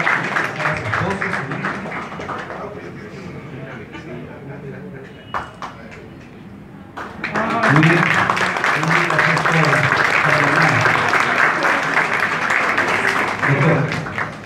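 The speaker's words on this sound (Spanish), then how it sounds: "Un aplauso, por favor." Audience applause at an honorary award ceremony at a bar association in Huaura: steady, fairly loud clapping that swells louder partway through, with people talking over it.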